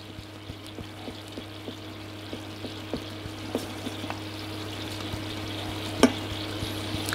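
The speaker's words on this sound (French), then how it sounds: "je mélange bien" Chocolate and butter are stirred in a pan while melting, giving a soft continuous sizzling and scraping texture with regular light taps of the utensil over a steady low hum.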